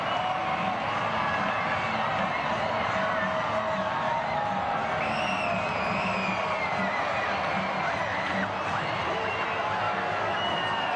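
Stadium crowd at a Tampa Bay Rowdies versus New Mexico United soccer match at Al Lang roaring after a goal, a loud sustained cheer with whoops and shouts that stays steady throughout, heard from within the stands.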